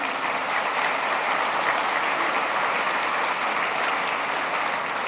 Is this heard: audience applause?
yes